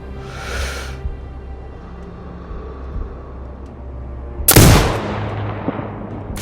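A sniper rifle shot in Sniper Ghost Warrior Contracts 2 lands as one sharp, loud crack with a short echoing tail partway through, after a fainter burst early on over a quiet game background.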